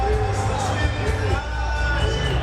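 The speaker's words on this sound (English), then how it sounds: "Undefeated Acelino Freitas, and he hears it from the crowd" A boxing arena crowd reacts to undefeated lightweight Acelino Freitas with loud, continuous cheering and babble, steady and dense, with whoops rising through the roar.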